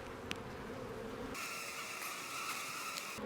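Honey bees buzzing in a densely populated open hive, a steady close drone that swells louder partway through and holds, with no talk.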